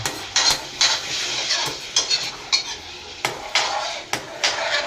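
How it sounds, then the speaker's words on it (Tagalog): A utensil scrapes and knocks against a pan while chicken liver and gizzard adobo is stirred as the sauce reduces, giving repeated sharp metallic clatters in an irregular rhythm, close and fairly loud. "Halu-haluin natin hanggang kukunti na yung sauce na natira"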